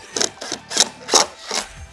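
A power drill drives a screw into a wooden planter board at a Habitat build, sounding as four or five short whirring pulses in a halting, uneven rhythm, close by.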